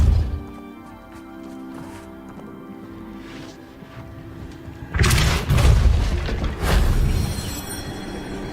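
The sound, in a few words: Depulso spell cast in Hogwarts Legacy video game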